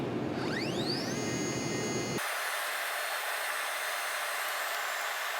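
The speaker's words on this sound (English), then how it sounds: "the machine will use its limit switches to determine where home is" A CNC router homes itself against its limit switches, its stepper motors first sweeping upward in rising tonal whines, then settling into a steady high electronic hum and hiss that continues alone at moderate level.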